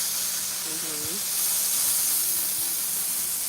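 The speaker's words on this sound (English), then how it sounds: "So I'm going to melt this butter" Butter melts on a hot flat-top griddle with a steady, bright sizzling hiss that swells slightly midway, while a voice murmurs faintly underneath.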